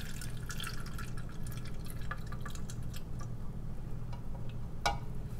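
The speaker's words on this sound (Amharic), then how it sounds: "ንጹህ ውሃ እስከሚወጣው ድረስ በደንብ አጥብ ያለሁኝ።" Water drips and splashes as red lentils are rinsed repeatedly for an Ethiopian lentil stew, with scattered small ticks and one sharper splash, all close and without talk.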